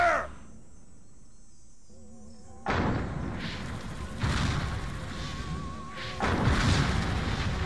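Gunfire and explosions in the Xbox classic game Destroy All Humans!: a quiet stretch, then a sudden loud burst of booming blasts and crackling shots that rumbles on and swells again near the end.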